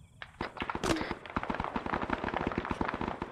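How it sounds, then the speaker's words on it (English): Rapid gunfire in Arma 3 aimed at an armed combatant: a dense, steady run of sharp shots in quick succession, loud and close, with a heavier blast near the start. "we are firing on an armed combatant here"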